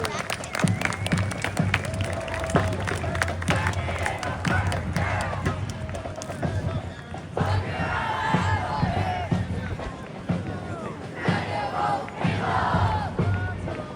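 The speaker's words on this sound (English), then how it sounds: "A big round of applause for the Space Force and Space Systems Command." Spectators at an Armed Forces Day parade in Torrance, California cheer and clap for the Space Force and Space Systems Command, a broad crowd roar with scattered whoops and applause, with people talking throughout.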